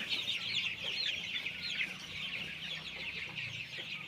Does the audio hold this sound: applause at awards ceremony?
no